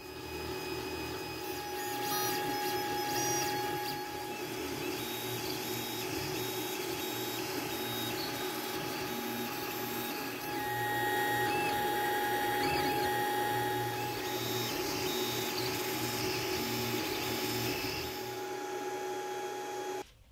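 A 3D printer builds a light mount part for a mountain bike, its stepper motors whining in steady tonal patterns that shift pitch as the head moves, running continuously and close by without any voices.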